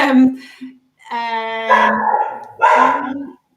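A dog barks and howls in a few loud, close bursts of yips and drawn-out wails, separated by brief pauses.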